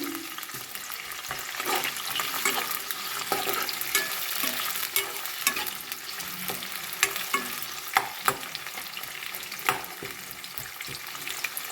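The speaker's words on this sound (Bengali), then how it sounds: "এই তেল গরম হয়ে গিয়েছে। আমি বেরেস্তার পেঁয়াজগুলোকে আমি ভেজে নিচ্ছি।" Sliced onions for birista fry steadily in hot oil, a dense continuous sizzle with scattered sharper crackles and occasional stirring clinks, loud and close throughout.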